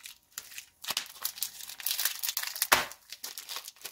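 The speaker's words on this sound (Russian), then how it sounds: "Так, и давайте еще один лосьончик сейчас вскрою." Plastic and paper packaging crinkles and tears close up as an aftershave lotion bottle is unwrapped, a run of quiet rustling bursts with no talk.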